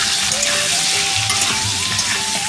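Potatoes fry in a pan with salt and turmeric while being stirred. A steady, close sizzle runs throughout, with light scraping and stirring movements over it.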